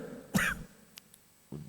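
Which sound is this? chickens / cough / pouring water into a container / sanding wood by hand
cough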